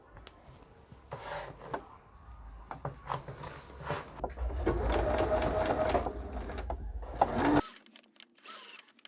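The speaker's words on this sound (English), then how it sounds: "sewing machine using the walking foot" A sewing machine fitted with a walking foot stitches faux fur for a vest in short bursts and then a longer steady run, with a fast mechanical whir and some soft rubbing of the thick fabric, before cutting off abruptly.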